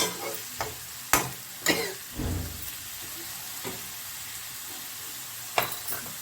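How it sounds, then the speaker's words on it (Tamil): Onions for shark puttu fry in oil in a pan, a soft steady sizzle punctuated by sharp scattered stirring scrapes and knocks of a spoon, fairly close and quiet, with no talking. "இப்போது வெங்காயம் நல்லா வதங்கிடுச்சு பாருங்க"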